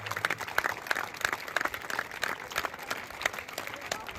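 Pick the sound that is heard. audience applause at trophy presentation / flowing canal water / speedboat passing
audience applause at trophy presentation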